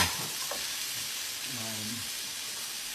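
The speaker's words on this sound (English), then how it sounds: "Now you have the tomatoes going." Tomatoes fry in a pan on the stove, giving a loud, steady sizzle with hissing steam that runs throughout, plus a brief clink of stirring and a faint low voice in the background.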